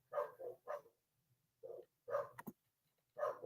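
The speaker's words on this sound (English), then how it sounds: "Dog is barking." A dog barks several times indoors during a live baseball play-by-play broadcast, a burst of quick barks, a pause, then more barks, moderately loud and close with no talk over them.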